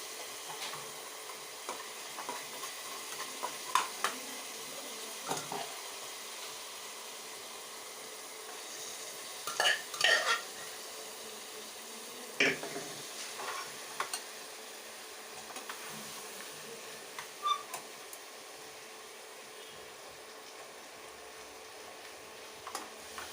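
Cabbage curry fries quietly in a pan, a soft, steady sizzle broken by occasional sharp clicks and scrapes of stirring.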